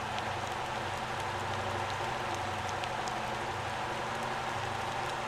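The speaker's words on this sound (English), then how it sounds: "It's raining and it's on snow" Steady rain falls in the video game Motortown, a continuous even hiss of drops with faint ticks and a low hum beneath, and no talking.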